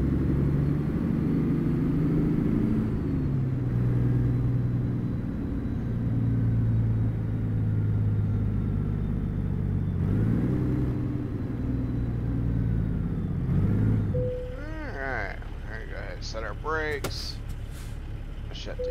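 A heavy truck engine idles steadily in American Truck Simulator, a loud, constant low rumble that cuts out near the end, leaving quieter game sounds.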